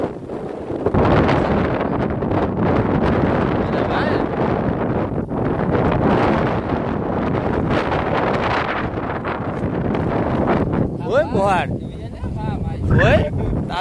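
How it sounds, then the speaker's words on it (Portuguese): Strong wind at an outdoor fishing spot roars and buffets the microphone continuously, loud and close, with a voice speaking near the end. "Tá ventando muito"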